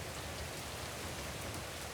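Heavy rain pours down in a steady, dense hiss that stays constant throughout, a continuous downpour with no voices.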